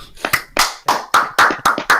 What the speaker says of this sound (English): Round of fucking applause for Leo here.